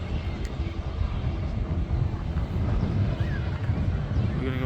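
A KLM Airbus airliner taxis past a Boeing Dreamliner at Manchester Airport, a steady, broad engine roar with wind buffeting, continuous and fairly close, with no clear voices.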